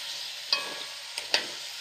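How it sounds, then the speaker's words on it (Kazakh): Pumpkin frying with onion in oil gives a soft, even sizzle, broken by a few sharp clicks of a utensil stirring the pan. "Майымызға жуамызды қуырып жатқанда үстіне бірінші асқабағымызды салып қуыратын боламыз"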